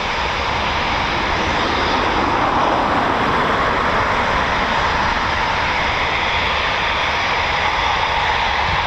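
Eurofighter Typhoon FGR4 jet flying at RAF Coningsby, a loud sustained broadband engine roar that stays steady and powerful for the whole stretch.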